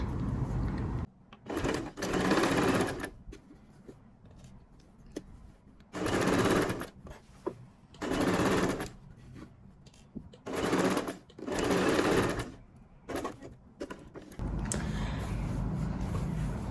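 A sewing machine stitches the pocket lining along the edge of men's trousers in several separate bursts of whirring, each a second or two long, broken by quieter pauses where the fabric is repositioned.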